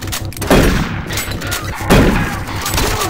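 Shotgun fire in the Doom 3 video game: two loud booming blasts roughly a second and a half apart, each followed by a rumbling decay, with game noise and no clear speech.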